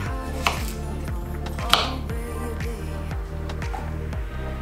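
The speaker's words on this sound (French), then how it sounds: "On va découper quand même un tout petit peu pour aider le blender" Garlic and onion being chopped with a knife on a board: a steady run of quick, evenly spaced chopping taps, close and clear, with a couple of sharper knocks along the way.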